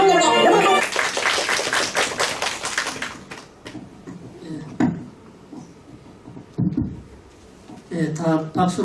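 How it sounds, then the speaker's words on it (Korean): Audience clapping at a national poetry recital ceremony held by a cultural center, a dense burst of claps at the start that thins into scattered claps, with someone speaking between them. "예, 다 박수를 치시는데"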